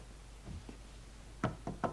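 Knocking on a door in the video game Alan Wake: a few soft taps early, then three sharp, close raps spaced apart near the end over a quiet room hum.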